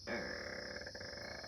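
A voice imitates a slow, trapped air bubble rising in place of a burp, making a low, drawn-out gurgling grunt that stays close and fairly steady in level for about a second and a half.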